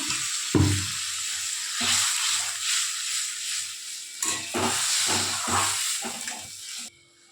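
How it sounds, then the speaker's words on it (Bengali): Masala sizzles and hisses in oil in a kadai as it is stirred, with scraping strokes at irregular intervals over a continuous frying sound until it cuts off near the end. "ভালো করে এবার মশলাটা কষিয়ে নেবো"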